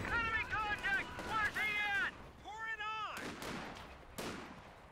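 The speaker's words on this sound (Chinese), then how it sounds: "在绿掩体后射击。" Gunfire in the video game Company of Heroes 2, apparently sniper shots, with two sharp reports near the end following a stretch of voices talking.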